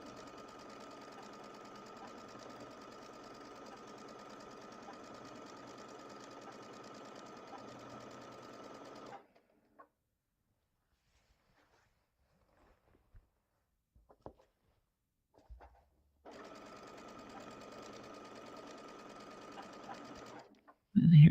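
Sewing machine stitching an arrow patchwork seam, a steady whirring hum running for about nine seconds, then silence with faint handling noises, then another stretch of continuous stitching.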